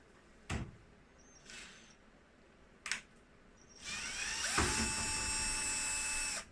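A cordless screwdriver removing cross-head screws from the top cover of a Beko DCU7230W tumble dryer: a few short clicks and brief bursts, then a sustained whirring drive of about two and a half seconds, close and fairly quiet.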